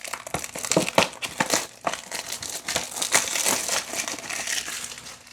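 Plastic wrapping being crinkled and torn off a 2025 Donruss Football retail blaster box of cards, close and continuous crackling with sharp rips, no speech.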